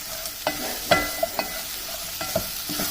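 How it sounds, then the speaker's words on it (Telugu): Onions half-fried in a pan for stuffed chilli curry, sizzling softly under several sharp spoon taps and scrapes against the pan. "ఉల్లిపాయ మాత్రం ఎక్కువ ఏమే కాదు హాఫ్ ఫ్రై అవుతాయి"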